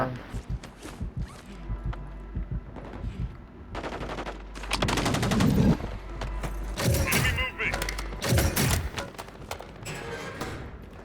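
Call of Duty Warzone gunfire: sharp, loud bursts of automatic fire and single shots come in clusters, with thuds and gear rustle between them, under a player talking excitedly.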